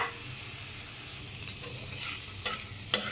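Onion, garlic and ginger added to frying potato and yardlong beans give a soft, steady sizzle in a pan, broken by a few light scrapes and stirs close by.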